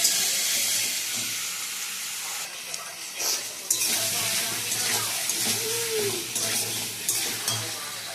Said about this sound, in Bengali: মুরগির ঠ্যাংগুলো দিয়ে দিয়েছি। ভালো করে কষিয়ে নেব।